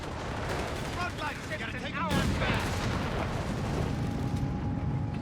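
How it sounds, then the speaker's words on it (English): A Panzer tank fires a shot in the video game Company of Heroes 3, a sharp loud blast about midway through a busy battle soundscape of scattered gunfire, with a voice talking over it. "Ooh, nice shot there from the Panzer, the rifleman."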